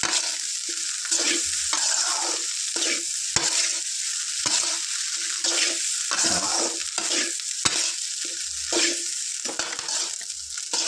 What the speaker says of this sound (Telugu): ఇలా చక్కగా కలుపుతా చక్కగా కలిసేలాగా కలుపుకోవాలి